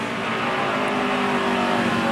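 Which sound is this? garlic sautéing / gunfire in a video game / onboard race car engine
onboard race car engine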